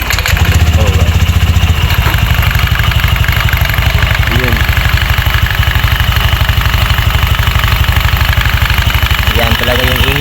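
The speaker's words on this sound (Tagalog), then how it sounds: "i-try natin paandarin tong motor kung ano talaga yung sira" A motorcycle with a suspected fault runs and idles up close with a steady, rapid, clattering pulse, while someone talks briefly over it.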